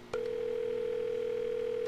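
A telephone dial tone from the video game August Night begins with a click after a short pause, then holds as one steady, continuous pitch until the end, clear and alone without any speech.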